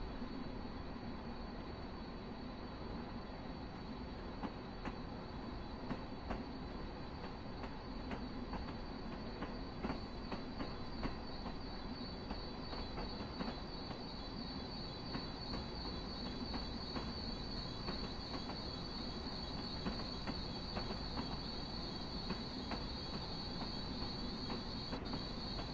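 A Long Island Rail Road train rolls through Jamaica station without stopping. A steady, low rumble runs underneath, with a persistent high wheel squeal and faint rhythmic clacks, all heard at a fairly quiet level.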